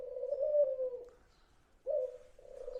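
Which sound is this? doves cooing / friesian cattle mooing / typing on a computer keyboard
doves cooing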